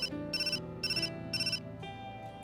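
A phone rings in the Hakuoki SSL Sweet School Life video game, three evenly spaced electronic ring bursts over a sustained musical background, with no talking.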